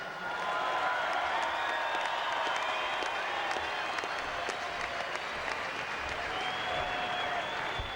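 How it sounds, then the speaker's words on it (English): Crowd applause greets the winning Manly rugby sevens team at the podium after the 1995 final against Fiji, steady and dense clapping with some cheering that fills the whole stretch without pause. "A big round of applause as they come to the front podium for Jeff Tuvey and the boys from Manly."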